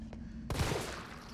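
Gunfire in the video game Resident Evil 3 Remake: a sharp shot bursts in mid-clip over a low hum, with a noisy, decaying rattle after it.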